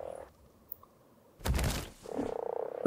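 Frog croaking in the survival video game Ark Survival Evolved on The Island map, a short loud croak burst midway followed by a buzzing rattling call, with quiet ambience between.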